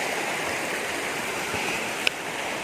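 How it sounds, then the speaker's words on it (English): A small waterfall spilling from a mini dam on a river makes a steady, close hiss of rushing water, continuous and even, with one brief click near the end. "So this is a mini waterfall, guys, from the dam, from the mini dam"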